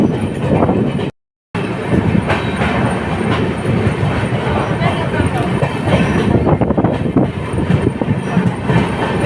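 A passing Jaynagar Patna Intercity Express train rushes by close and loud, its steady roar of rail noise and rattling carriages continuing without break.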